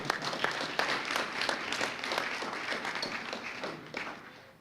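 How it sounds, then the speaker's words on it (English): An audience at a community press conference gives a round of applause, with steady dense clapping of moderate loudness that carries on without any speech before tapering slightly at the close. "Let's give them a round of applause."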